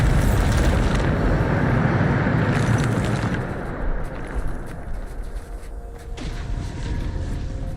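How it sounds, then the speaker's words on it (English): A Bombarda explosion spell goes off in the video game Hogwarts Legacy. It is a loud, dense blast rumble that holds for several seconds, then thins into a lower, rougher tail. "Bombarda!"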